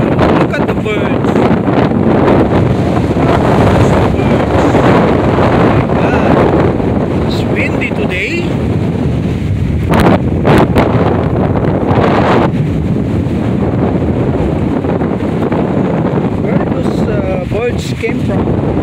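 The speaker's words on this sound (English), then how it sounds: "As you can see, it's very windy." Strong wind roars and buffets the microphone nonstop at Lake Eustis, Florida, loud throughout, with a low rumble and faint water sounds underneath.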